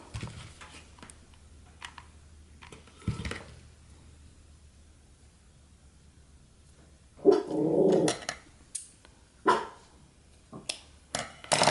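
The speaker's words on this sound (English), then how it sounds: "There's my doggy." A Yorkshire Terrier barks a few times in short bursts, mid-distance, with quiet room noise and light tapping between the barks.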